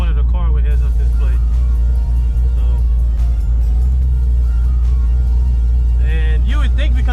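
A 2012 Chevrolet Camaro SS V8 with a big cam, automatic, idles with a deep, steady, lumpy rumble while a person talks over it.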